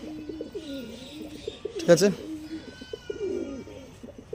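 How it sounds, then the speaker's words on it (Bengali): Baharampur pigeons coo in low, throaty rolling calls close by, with a brief clattering flutter midway and a person speaking briefly over them. "এ হচ্ছে বহরমপুরের পায়রা"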